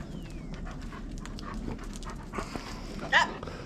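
Dogs pant close by in a steady rhythm over a noisy outdoor background, with a brief whimper-like squeak near the end and soft voices around them.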